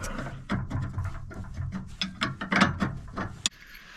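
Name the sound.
wrench tightening bolt on e-bike rack carrier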